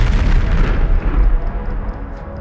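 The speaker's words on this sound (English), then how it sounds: "Then the artillery comes down. Explosions hammer the area, shockwaves rippling through dirt and concrete." Heavy, continuous booming rumble of artillery explosions striking dirt and concrete, dense low-end thuds rolling one into another with no pause, loud and close.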